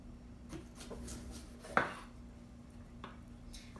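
Red pepper being chopped on a cutting board for a blender, giving a single sharp knife knock against the board amid soft kitchen handling noises and a low background hum, fairly quiet overall.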